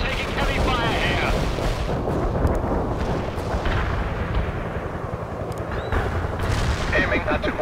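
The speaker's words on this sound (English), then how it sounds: "The artillery strike hits the enemy." An artillery strike pounding enemy positions in the real-time strategy game World in Conflict, a dense, continuous roar of overlapping booms and blasts, loud and close, with voices faintly mixed in.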